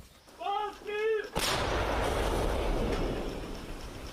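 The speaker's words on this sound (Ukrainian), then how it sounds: "Гармата успішно відпрацювала по російській групі БПЛА" A voice shouts briefly, then a single heavy artillery gun blast booms out close and loud, firing at a Russian drone group in Ukraine, its rumble lingering and slowly fading.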